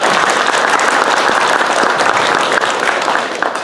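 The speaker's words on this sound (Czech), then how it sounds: "Prostě já myslím, že ten potlesk zaslouží" Sustained applause from an audience at a Communist Party seminar in Litoměřice, dense and loud, clapping steadily before easing slightly at the end.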